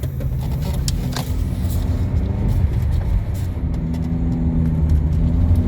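A Honda CR-V engine revs rough and loud throughout, with a low uneven rumble and a few sharp rattling knocks near the start.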